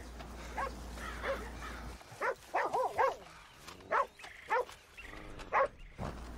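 A dog barking in a video game, a string of sharp single barks at uneven intervals, moderately distant and fairly faint, after a low hum at the start.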